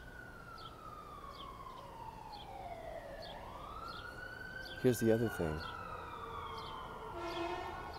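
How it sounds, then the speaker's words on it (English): An emergency vehicle siren wails outdoors at a moderate distance, its pitch sweeping down and then rising again while someone talks over it. "Do you hear that siren?"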